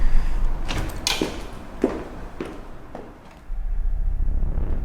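A door opens into an empty interview room, giving a few sharp knocks and clunks of the handle and latch that stand alone over a low background hum, followed by a quieter stretch.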